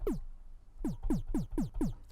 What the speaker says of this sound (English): but if I use a triangle, it sounds like this